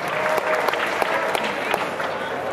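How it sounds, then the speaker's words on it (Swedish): Audience applause fills the Dreamhack Summer 2013 main stage, a dense steady roar of many hands with some crowd noise and voices mixed in throughout. "Genom en applåd till D.H. Björn!"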